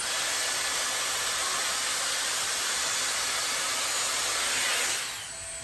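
Dyson Airstrait dryer-straightener blowing through a clamped section of wet hair, a loud, steady airy rush that holds constant for about five seconds, then cuts off.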